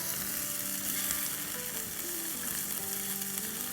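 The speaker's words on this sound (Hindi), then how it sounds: "इसको भी 30 सेकंड सॉटे करेंगे" Poha ingredients with parboiled peas sautéing in a pan, a dense, even sizzle and crackle that holds steady and fairly loud from start to end, with no talk.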